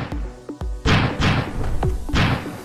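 Explosions go off in the video game Stumble Guys, a run of loud, booming thuds about half a second apart, each with a sharp onset and a short rumbling decay.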